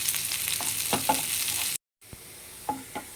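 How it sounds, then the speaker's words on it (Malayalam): Shallots and chillies tempering in hot coconut oil for a pumpkin pulinkari, a soft close sizzle with short stirring scrapes, broken by a brief silent gap. "പിന്നെ അതിലേക്ക് വറവിടാൻ പാനിൽ എണ്ണ ഒഴിച്ച് വെളിച്ചെണ്ണ ഒഴിച്ചിട്ട് ചെറിയ ഉള്ളിയും മുളകും കൂടി വറവിടും"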